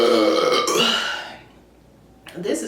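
A person lets out a loud, long burp up close, followed by a quiet pause and then a brief voice.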